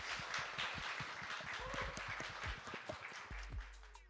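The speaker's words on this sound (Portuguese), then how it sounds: "Palmas pra Estrela!" Quiet applause for a guest named Estrela in a podcast-style setting: a scattered patter of hands clapping, faint and somewhat distant, with bits of talk mixed in.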